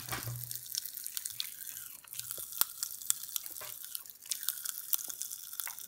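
Popping candy poured into a mouth crackles with irregular sharp snaps and tiny pops over several seconds, close and fairly quiet, with a wet, crunchy texture and no talk.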